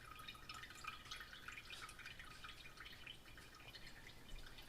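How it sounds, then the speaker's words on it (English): Cold brew coffee drips steadily from a filter into a bowl, a faint, continuous patter of small wet drops close by with no talking. "still dripping"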